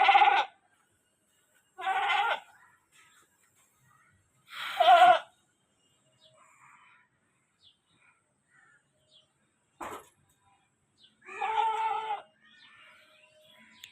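A goat kept on a house rooftop as a sacrificial animal bleats four times, each call loud, close and separated by several seconds of quiet, with no talking.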